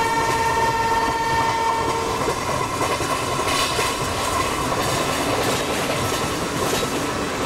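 A locomotive on the Coromandel Superfast Express in the Train Simulator PC game rolls along the track with a steady rumble, a sustained horn-like tone early on and clattering wheel noise throughout.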